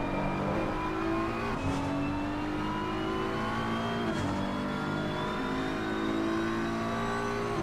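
A Ferrari GT3 race car in Assetto Corsa Competizione roars continuously at high revs, pitch climbing through gears with brief shift dips, loud and close with no talking.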